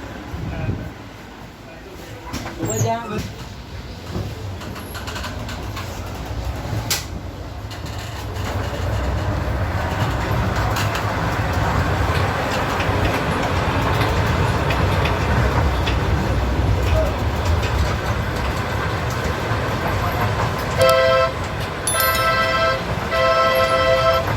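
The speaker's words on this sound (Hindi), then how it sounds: "फिर ट्रेन वहाँ पर आएगी, आपको नेक्स्ट स्टेशन पे लेके जाएगी।" Miniature park ride train at a children's nutrition park pulling into a station, a steady rumbling roll with faint clicking rising mid-clip, then a short bright tonal toot near the end, with people talking in the background.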